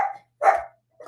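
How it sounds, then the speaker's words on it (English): A dog gives three short, loud barks spaced apart in a quiet indoor setting, with no talk over them. "And Lily, all she does is fake barking, just like you."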